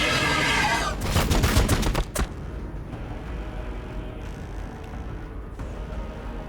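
Gunfire in the Warhammer 40,000 Battlesector strategy game, a dense burst of overlapping shots for about two seconds with a sharp final crack, then a steady low rumble of battle ambience underneath.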